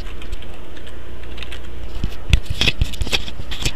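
Fingers type on a computer keyboard, faint taps at first, then a burst of louder, crisp irregular key clicks over a steady background hiss, close by and with no speech.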